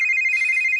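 Telephone ringing: a loud, bright electronic ring tone holding one steady pitch, close and alone for a brief moment.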